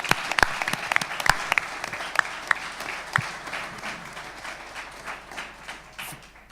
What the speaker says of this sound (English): Big round of applause for Phil Greco's head trainer